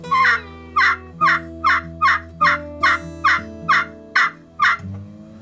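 A handmade turkey pot call gives about a dozen evenly spaced, sharp yelping notes in a steady rhythm, loud and close, with a low hum underneath.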